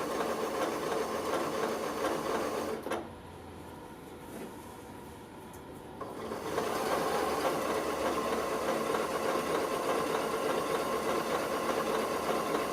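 A home sewing machine runs steadily, stitching fabric for an autumn fabric bucket with pumpkin applique, its motor hum continuous and close apart from a quieter pause in the middle of the stretch.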